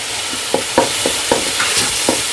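Tomatoes sauté with onions in a pan under a constant sizzle, punctuated by about eight quick spatula scrapes and taps in an uneven rhythm, with no voices.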